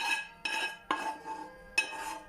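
Fried onion and carrot being laid into a dish with metal utensils while making cabbage rolls: four distinct scraping, clinking bursts separated by short pauses, close and moderately loud, no voices.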